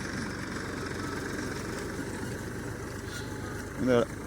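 A tractor engine idles in a steady low rumble with a faint rhythmic throb throughout, and a brief rise in sound near the end.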